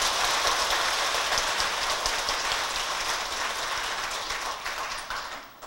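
At a Buddhist temple founding ceremony, a large assembled audience applauds in a dense, sustained wash of clapping that gradually fades toward the end.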